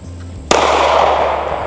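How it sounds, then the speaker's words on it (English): A single sharp gunshot from a Kimber CDS9 9mm pistol, loud and close, cracking suddenly out of a quiet background and trailing off into a long, bright ringing decay, with no talk over it. "I wasn't really great with shooting this"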